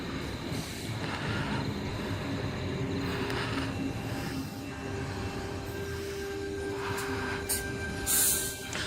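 A Sydney suburban electric train departs platform 4 at Toongabbie station, with a steady rumbling hum and rising motor whine heard from the platform, plus brief clanks toward the end.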